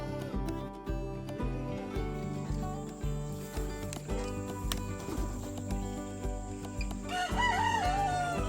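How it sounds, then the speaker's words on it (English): On a farm, a rooster crows near the end over a background of steady rhythmic pulsing, with hen clucks mixed in. "I heard you crowing"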